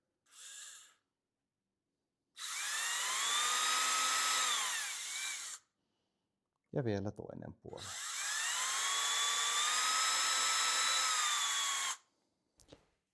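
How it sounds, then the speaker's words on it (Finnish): A power drill bores holes through a wooden deer trophy mount board in two long, loud, whining bursts with pitch that rises and falls as the bit cuts. Short pauses and brief speech fall between them. "Tässä vaiheessa me porataan nämä reijät läpi."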